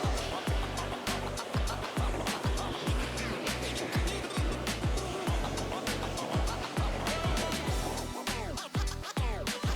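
A creek near White Horse Falls in Glide, Oregon rushes steadily beside a rough trail, a constant close water roar with footsteps and movement thumping through it and faint voices.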